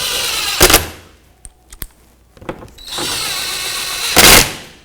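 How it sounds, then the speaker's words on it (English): Short bursts from a power screwdriver drive splash shield mounting screws into a 2005-2010 Pontiac G6, two loud whirring runs separated by a few small clicks and rattles, close and without speech. "Slide the mounting screws through the front. Make sure they line up and screw them in."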